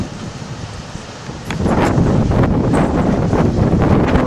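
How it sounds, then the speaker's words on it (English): Strong wind buffeting an outdoor microphone in South Dakota, a loud continuous rumbling roar that swells sharply after a milder start and stays heavy throughout. "The wind is not helping us today."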